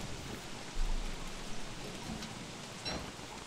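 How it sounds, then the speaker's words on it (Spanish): Quiet, steady rain patters in the survival video game Don't Starve Together, a soft hiss of falling drops with a few faint low rumbles underneath. "Claro, está lloviendo."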